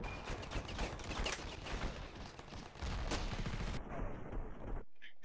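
Rapid bursts of gunfire from a sniping session in Fortnite, dense overlapping shots and impacts filling most of the stretch, loud and busy, cutting to near silence at the end.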